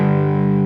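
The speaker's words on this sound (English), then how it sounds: "I'm using a Walrus Audio Iron Horse distortion pedal" An electric guitar power chord played through a Walrus Audio Iron Horse distortion pedal, a loud, sustained, buzzing distorted chord held steadily with no talk.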